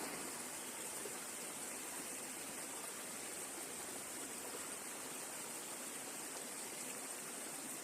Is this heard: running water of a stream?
yes